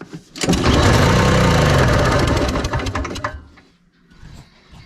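A small engine with a carburetor and choke, fed bad gas, is pull-started close by, sputters loudly for about three seconds, then dies and leaves faint handling noises behind.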